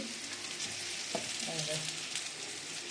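Sliced bitter gourd, tossed with salt and turmeric over mustard seed tempering, fries in a pan with a steady, close, hissing sizzle and a brief stir partway through.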